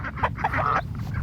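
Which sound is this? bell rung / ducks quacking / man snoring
ducks quacking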